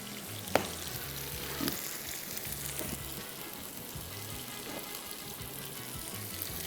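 A paratha cooking in a pan over a low flame sizzles steadily throughout, with a few faint clinks and scrapes scattered over the continuous frying hiss.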